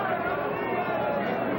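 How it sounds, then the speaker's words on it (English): Boxing crowd at a Sugar Ray Leonard versus Adolfo Viruet bout hooting and murmuring as the referee steps in, a steady dense wash of arena voices with no clear individual speech. "Crowd hooting a little bit as the referee gets involved here."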